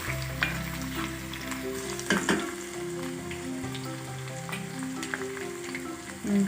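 Cumin, curry leaves and garlic crackle and sizzle in hot oil for an onion curry, a moderate continuous frying hiss with occasional stirring clatter and sharp pops, without any voices.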